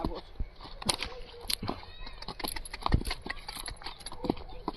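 A mare's hooves clip-clop in an uneven series of sharp knocks, close and moderately loud. People talk nearby.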